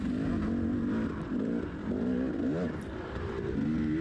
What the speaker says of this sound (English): giving me a nice 125 rev right on him in third.